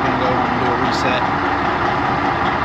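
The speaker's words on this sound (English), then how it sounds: "this truck next to us making noise" A large truck idles close by with a constant low, rumbling engine drone, while a person talks over the noise.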